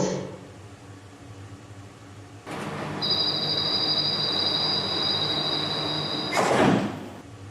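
An airport transit train sits with a sliding door closing before it starts rolling, a steady electric hum and a sustained high tone running under the rumble, then a sharp burst of noise near the end.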